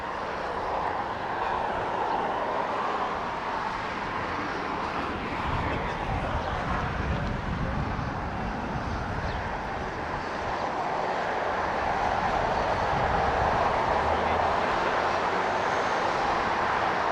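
A Honolulu-bound airliner takes off at Los Angeles International Airport, a broad continuous jet roar heard from a distance that swells gradually louder toward the end.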